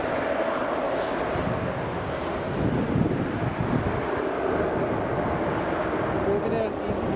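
A Pilatus PC-12 turboprop at Edinburgh Airport gives a broad, steady roar that swells a little midway and holds, heard from a distance with wind buffeting the microphone.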